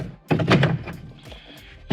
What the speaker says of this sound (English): there's just some clips that you push on each side to release it